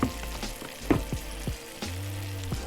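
Sturgeon fillets frying in oil, southern catfish style, give a close, steady sizzle with scattered pops and light scraping knocks, and no one speaks.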